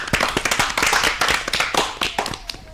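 Audience clapping for a student after a storytelling performance on a children's school programme, a brisk, dense patter of hands lasting a few seconds with no talk over it.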